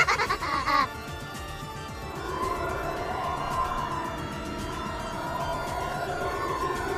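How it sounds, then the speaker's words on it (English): Goats bleating as a sound effect from the visual novel Umineko: a loud burst at the start, then a dense, sustained wash of many overlapping bleats continuing steadily throughout. "a massive number of unspeaking goat attendants slipped out from behind pillars and began to fill the cathedral"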